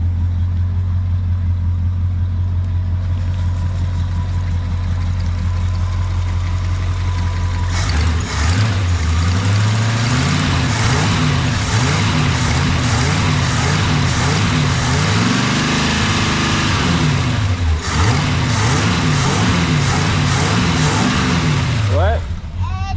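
A car engine fitted with a freshly rebuilt Motorcraft/Autolite 2100 carburetor idles loudly and steadily nearby, then picks up into uneven revving surges with a wavering pitch before settling again.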